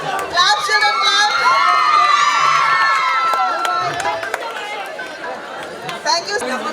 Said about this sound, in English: Clap, children, clap.